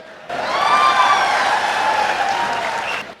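Sustained audience applause with some cheering at a Tamil-language speech, rising quickly, holding steady for about three seconds, then cutting off abruptly.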